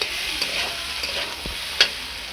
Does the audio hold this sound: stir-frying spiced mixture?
yes